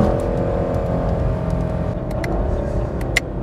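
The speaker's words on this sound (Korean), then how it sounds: "스테어링 휠이 많이 감기지 않은 상태에서 엑셀온 킥다운을 하는 게 안전하죠" A Chevrolet Camaro SS with a 6.2-liter engine and 10-speed transmission accelerates hard under kick-down on a circuit, a loud sustained engine roar and whir heard from inside the car.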